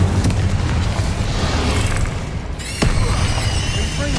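Incendio fire spell cast in the video game Hogwarts Legacy, a loud roaring blast of flame and booming impacts, followed by a sharp crack and a sweeping whoosh.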